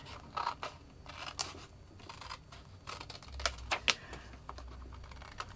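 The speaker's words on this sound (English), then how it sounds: "trim off the excess. So I'll just cut it off." Scissors cutting off excess card, a series of close, crisp snips and paper rustles in irregular bursts, fairly quiet with no voices.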